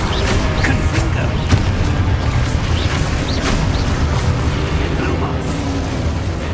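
Confringo fire spells in Hogwarts Legacy, a run of booming blasts and crackling bursts repeating through a loud, busy combat soundscape with occasional sharp transients.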